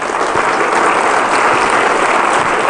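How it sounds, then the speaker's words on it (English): A conference hall audience at a DEFCON hacker convention breaks into loud, steady applause, dense clapping from many hands that holds at full strength throughout. "round of applause to Relic."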